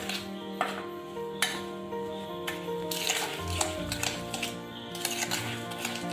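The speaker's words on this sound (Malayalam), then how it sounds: "നല്ലപോലെ ഇളക്കി യോജിപ്പിക്കുക." A spoon scrapes and clinks steadily through a thick coconut cookie mixture in a metal pan, with sharp metallic taps at intervals and a soft background hum, and no talking.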